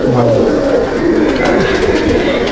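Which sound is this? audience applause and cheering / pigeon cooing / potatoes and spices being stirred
pigeon cooing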